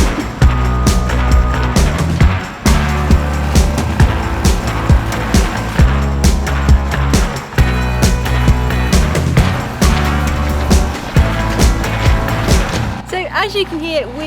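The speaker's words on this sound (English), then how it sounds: "As you can hear, we are underway and we are once again on the engine because the wind is not in our favour at the moment." A sailboat motors along under engine power off the coast of Scotland, its engine giving a loud, steady, close droning rumble that continues almost without a break before shifting near the end.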